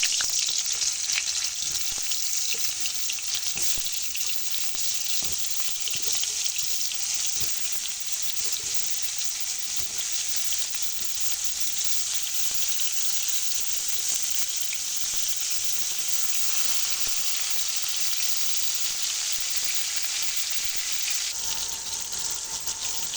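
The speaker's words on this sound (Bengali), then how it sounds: "এবার আমি পটলগুলো ভেজে নেব।" Pointed gourd pieces coated with salt and turmeric fry in hot mustard oil, making a loud, constant crackling sizzle with frequent spatter pops and occasional stirring taps, close by with no talk.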